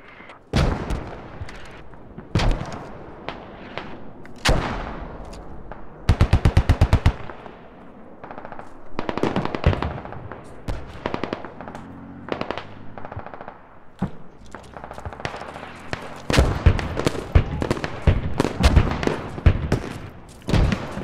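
Gunfire from the military shooter game Squad on the Al Basrah invasion map: loud, close bursts of machine-gun fire mixed with single shots and booming heavier blasts, continuing in irregular clusters throughout.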